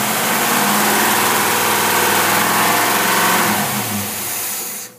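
A marine boat engine fitted with a Rochester Quadrajet carburetor revs loud and close, holding a rough, steady roar before the pitch drops and it suddenly cuts off near the end.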